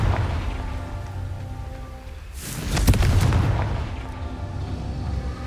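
A Confringo fire spell explodes in the video game Hogwarts Legacy, one loud booming burst about halfway through with a crackling tail, over steady rumbling game ambience.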